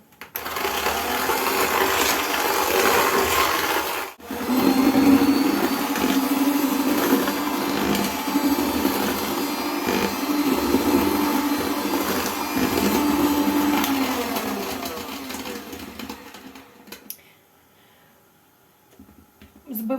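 An electric mixer whirs steadily as it beats eggs with sugar for honey cake dough, a loud continuous motor drone that cuts out briefly near four seconds and then stops toward the end.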